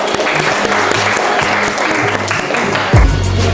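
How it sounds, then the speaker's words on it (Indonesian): An audience in a classroom presentation session applauding, dense sustained clapping from many hands that carries on steadily and then swells near the end. "Ya, kita beri aplaus dulu."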